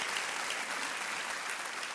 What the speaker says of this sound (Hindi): और तालियों के साथ इनका स्वागत हमारे कार्यक्रम में।